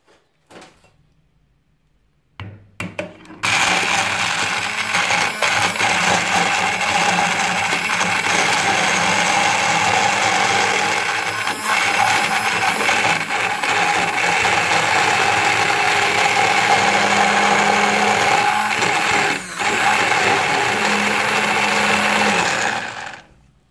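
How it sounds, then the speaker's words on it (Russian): A blender whirs loudly and continuously, grinding sunflower seeds with water, ground black pepper and bay leaf into a garlic sauce; after a few brief starts it runs at a steady high-pitched grind for about twenty seconds before stopping. "Сейчас добавлю воды и размолю блендером"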